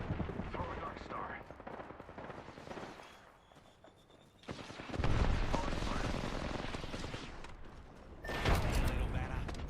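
Knuckle cluster weapon fire in a shooter game comes as loud bursts of rapid shots and blasts, with a quieter lull in between and a second heavy burst near the end.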